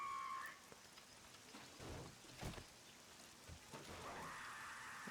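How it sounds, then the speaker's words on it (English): Steady rain hisses in the 7 Days to Die zombie survival game, a soft, even wash of falling drops with a few brief louder thumps and rumbles rising through it. "It's raining."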